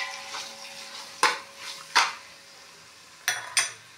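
Onions and tomatoes for prawn biryani are sautéed in a pan, with a soft sizzle under four sharp scrapes and knocks of a utensil against the metal, spaced apart.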